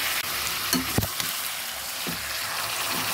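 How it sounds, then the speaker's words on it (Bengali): Mutton frying with onions in a pan for a Bengali mutton curry, a steady close sizzle throughout, broken by a few stirring scrapes and clinks, with no talking. "এখন পেঁয়াজের সঙ্গে মাংসটাও ভেজে নেব।"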